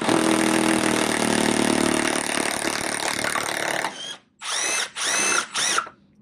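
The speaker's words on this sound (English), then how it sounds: "Yeah, that one's seized up, and so I'm gonna have to drill that one out probably." A power tool whirs steadily on a seized bolt in a MINI Cooper engine bay, loud and sustained for several seconds, then stops and gives three short revving bursts, close.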